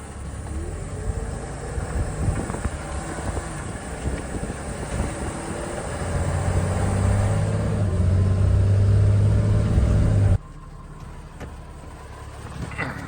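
A tractor pulling a hitched hay baler rolls off across a farm during a late second cut of hay, its engine rumbling steadily and swelling louder for a few seconds before stopping abruptly, leaving quieter background noise.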